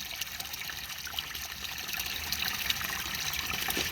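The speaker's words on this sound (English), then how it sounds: "I can see some water beginning to trickle down." A pond pump refilling a drained plastic garden pond, with a thin, steady trickle of water and soft hissy splashing that stays continuous and fairly quiet throughout.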